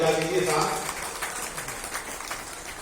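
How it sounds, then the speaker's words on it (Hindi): Audience applause at a Delhi Police Week event, a dense patter of many clapping hands that starts strong and tapers gradually, with a voice faintly over it. "तालियां एक बार जोरदार बजा दीजिए साहब।"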